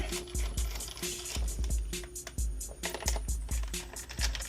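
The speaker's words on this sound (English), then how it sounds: "I'm gonna take this monitor apart" A monitor being taken apart, with close clicking, ratcheting and clattering of plastic parts and tools in irregular bursts.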